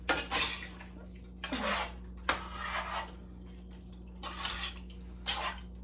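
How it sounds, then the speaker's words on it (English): Food is stirred in a pot, giving several separate close scraping and clanking strokes with pauses between them over a steady low hum, with no talking. "I'm going to give this a little stir here."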